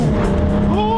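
A Jaguar F-Type engine, in manual mode with paddle shifting, revs hard under acceleration, its rising engine note loud and close inside the car for a brief burst.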